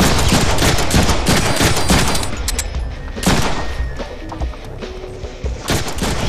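Rapid bursts of gunfire from the Deadpool video game, a dense fusillade of loud overlapping shots in the first half, then scattered single cracks and impacts over a lingering battle din.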